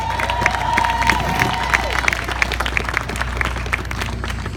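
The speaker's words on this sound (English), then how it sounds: "give our civil rights lawyers a round of applause" An audience applauds and cheers for civil rights lawyers at a speaking event, with sustained clapping and a few raised voices, fairly loud and continuous throughout.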